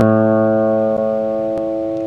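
Sustained A reference note for tuning the fifth string of an Esteban steel-string guitar, one steady ringing tone with clear overtones held throughout, close and loud, a couple of faint ticks underneath.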